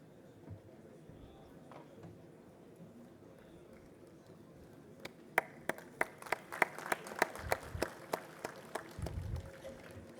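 Applause welcoming a speaker at an engineering association's annual conference, starting as sparse claps under quiet room noise, then swelling into a burst of sharp individual claps in a hall.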